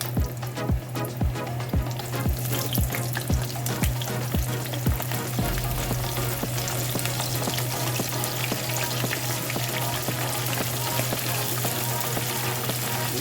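Chicken wings dropped into preheated deep-frying oil, a run of sharp splashes and plops at the start giving way to a loud, dense, continuous bubbling sizzle close by.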